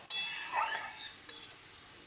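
Mixed vegetables are stirred in a pan with a little water, a short scraping swirl of spoon against metal with a faint sizzle underneath, close and clear with no talking.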